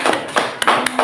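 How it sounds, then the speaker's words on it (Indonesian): A few quick hand claps from a classroom audience of teacher trainees for a presenting group, sharp close taps in a brief uneven burst with no talk. "Tepuk tangan untuk kelompok dua."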